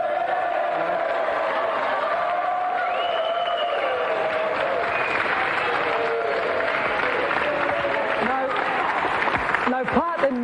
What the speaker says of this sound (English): Another round of applause for Pat Sharp and Mick Brown.